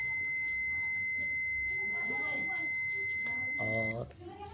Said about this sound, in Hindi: देखिए इसका भी बजर हम टेस्ट करा दिए फ्रेंड